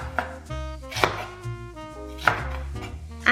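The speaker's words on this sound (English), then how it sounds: "Now chop some spring onion." Knife chopping spring onion on a board, four distinct close chops spaced unevenly about a second apart, with a steady tonal hum underneath and no voices.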